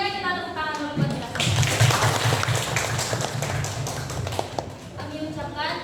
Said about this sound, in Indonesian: Sebelumnya kita tepuk tangan dulu buat kita.